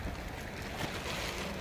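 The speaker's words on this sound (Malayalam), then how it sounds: "പുഴ ഇങ്ങനെ നിറഞ്ഞൊഴുകയാണ്," A flooded river running full, a constant broad rushing roar of water, faint and steady with no voices.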